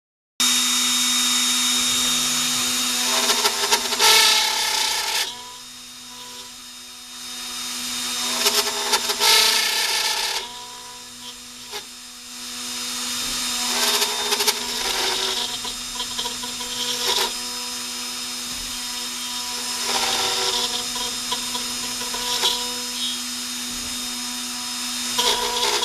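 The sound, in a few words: X-Carve CNC router carving a 1-inch-thick piece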